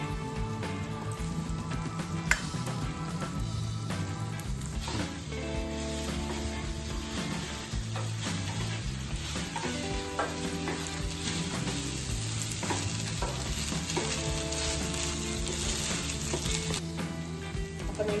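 Cooked rice sizzles and fries steadily in a pan for lemon rice, a constant dense crackle, close and even, with background music playing throughout and no talk.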